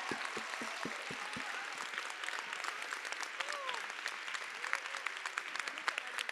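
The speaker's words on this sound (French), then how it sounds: "une très bonne main d'applaudissements" An audience at a women's evening event applauds. Several distinct claps open a sustained, moderately distant round of clapping that continues evenly.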